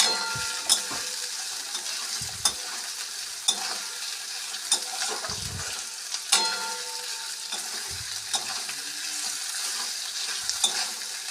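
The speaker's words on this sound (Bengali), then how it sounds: "চলো এবার পেঁয়াজগুলো ভেজে নিই" Steady sizzle of onions frying in a pan, with periodic scraping clatters from a spatula stirring, no voices.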